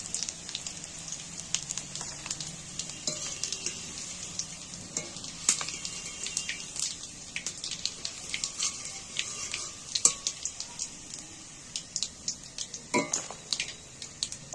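Fish roe frying slowly in oil over low heat, a steady close crackling sizzle with scattered sharper pops and spits throughout, no voices.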